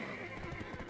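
A horse in the game Black Desert Online gives a brief, loud neigh lasting about a second, with no other sounds around it.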